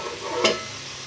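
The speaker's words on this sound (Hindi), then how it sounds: "इसे जो है अब मैं फ्राई करने लगी हूँ" Sliced onions fry in oil in a pan toward a light brown, a soft close sizzle with one brief scrape of stirring in the middle.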